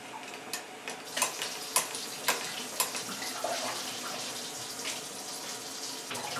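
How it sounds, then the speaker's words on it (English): Cider siphoned through a hose into a bucket, with the hose held against the bucket's side: steady splashing trickle and bubbling, punctuated by irregular small ticking drips and clunks, fairly close. "I'm also trying to hold the siphon hose against the side of the bucket so the cider doesn't splash into the bucket"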